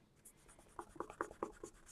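A piece of paper towel is rubbed over paint-loaded brushes, giving a series of faint dry scratchy strokes in a quick, uneven rhythm, close and quiet.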